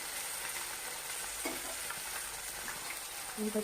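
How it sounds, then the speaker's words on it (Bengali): Large pond fish frying in a pan at home, a steady dense sizzle of hot oil running throughout with a few soft clinks near the end. "পুকুরের মাছ আমাদের কিনেছি, আমি ভেজে নিচ্ছি।"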